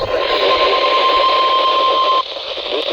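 A weather radio emergency alert test signal plays as a loud, steady electronic tone over a hissy broadcast carrier for about two seconds, then cuts off, leaving only the radio's background static.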